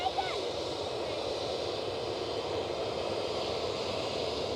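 A Ryanair airliner passes at Edinburgh airport with a steady, broad engine roar that holds evenly throughout and sounds moderately distant.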